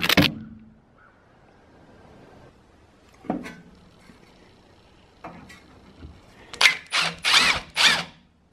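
A power drill pre-drills holes in a bus body, heard as a few short whirring bursts with quiet pauses between them and a quick run of four loud, close bursts near the end.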